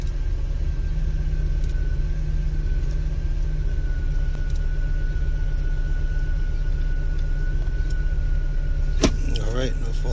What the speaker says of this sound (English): I'm gonna keep the car running for a little bit